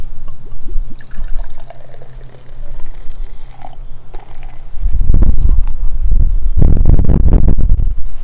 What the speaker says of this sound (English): let's do a good pour